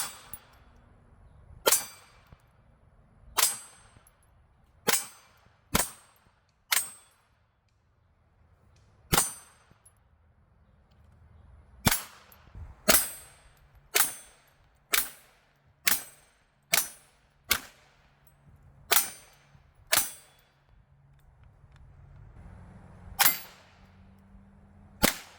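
Gunshots at an outdoor shooting range crack out as about fifteen sharp, isolated reports with metallic ring, spaced irregularly a second or two apart over faint background quiet.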